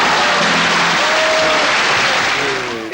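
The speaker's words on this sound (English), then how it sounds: "Applaud!" A television talk show studio audience gives loud, sustained applause, many hands clapping in a dense wash, with faint voices and a brief cheer or whoop surfacing near the end.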